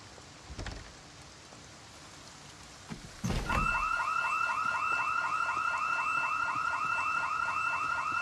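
Alarm going off in Project Zomboid, a sudden loud warbling electronic wail that starts after a couple of soft thuds and repeats in steady rapid cycles over rain-like background hiss.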